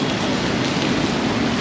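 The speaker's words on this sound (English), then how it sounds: "Yeah, it's been raining a lot." Steady, dense rain falls continuously near a river under a metro bridge, a constant hiss with no pauses and no voices.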